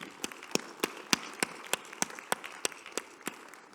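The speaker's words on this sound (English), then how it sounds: "let's thank our speakers with another big round of applause" Applause for speakers at an emergency-services conference session on standardisation comes through as quiet, distant, regular claps from a small audience, evenly spaced at roughly three per second.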